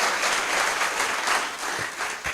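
An audience at a live student interaction event with scientist Dr. Mashelkar claps for a guest speaker, a dense, steady burst of applause that fills the room and carries on without voices.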